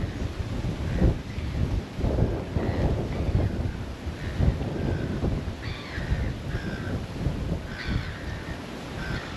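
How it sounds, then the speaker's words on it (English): Rough wind buffets and rumbles continuously in a storm with pouring rain in the Pilbara, with crows cawing intermittently in the distance. "There's a bit of a storm coming in. Jesus, it's rough out here. It's pouring with rain."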